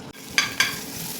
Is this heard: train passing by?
no